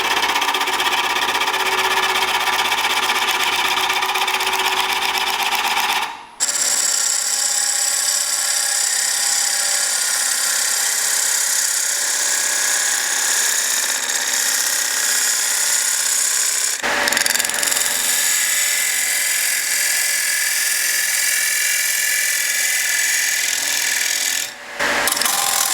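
A wood lathe turning a bowl, a loud continuous whir and rasp of the tool cutting at a steady speed, with two brief pauses in the cut.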